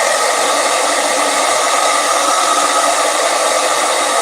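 A blow dryer blasts steadily at close range while drying tape and paper on a handmade comic page, producing a loud, unbroken whooshing roar that fills the whole stretch with no talk.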